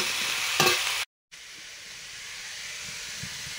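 Soft frying hiss of lentils in a pan with a brief scrape of stirring, then a short gap of silence before the gentle sizzle resumes.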